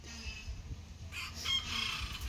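Chickens and a rooster around a rural home. A rooster's crow rises partway through over steady low clucking, moderately close, with no one speaking.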